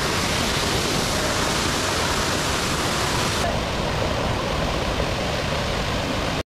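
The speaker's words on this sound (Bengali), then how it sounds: "তো এটাই হইল মাধবকুণ্ড ঝর্ণা।" Water pours down Madhabkunda waterfall in a dense, unbroken roar, loud and steady throughout, with no other sounds standing out.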